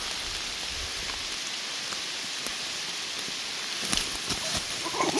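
Steady rain falls in a forest during a mushroom-gathering walk, a constant close hiss of drops on leaves with a few heavier splatters near the end.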